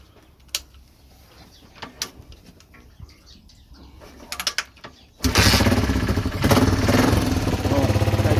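A 1978 Honda XL250 motorcycle is kick-started. First come a few mechanical clunks and kicks, then the engine catches and runs loud and close with a steady, rapid single-cylinder putter.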